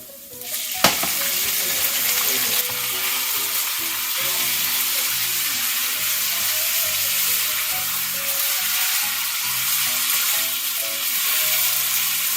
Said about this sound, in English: I'm going to go ahead and add in the noodles